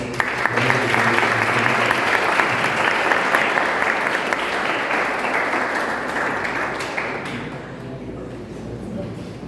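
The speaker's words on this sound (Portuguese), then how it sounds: "Eu pedi aqui uma salva de palmas." Sustained audience applause at a talk on traditional peoples and mixed heritage in Brazil, dense clapping throughout that gradually thins toward the end.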